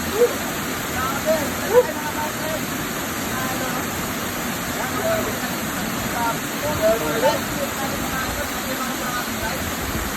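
Water rushes steadily through an open dam gate, a loud continuous roar of broadband noise lasting throughout, with a few faint voices and knocks in the background.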